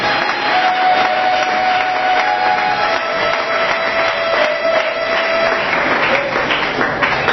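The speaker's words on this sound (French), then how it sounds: "on acclame très fort le Seigneur" A church congregation applauds and cheers loudly for the Lord, a steady, dense wall of clapping and shouting that keeps going without a break from start to finish.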